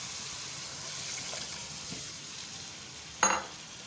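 Spiced potatoes cooking in a pan for matar aloo give a steady low sizzle, then about half a glass of water is poured in, a brief loud splash and hiss near the end.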